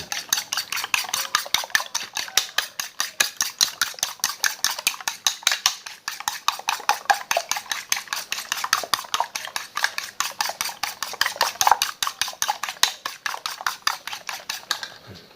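Beaten eggs with hot dog pieces stirred briskly in a bowl for an omelette, a fork or spoon clicking against the sides in a fast, steady rhythm of close, sharp taps throughout.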